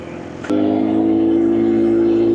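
A BMW S1000RR sportbike rolls downhill with its engine running, a sudden sharp click then a steady, loud, harmonic drone holding close and continuous.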